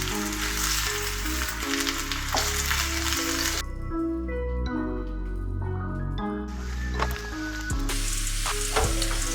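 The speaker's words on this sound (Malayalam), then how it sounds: "നല്ല ഫ്രൈ ആയിട്ട് കിട്ടണ്ട, ഒരു മീഡിയം ഫ്രൈ ആയാൽ മതി." Eggplant slices frying in oil in a pan for dahi baingan, a constant crackling sizzle with spits and occasional stirring or turning sounds, close and continuous with no talking.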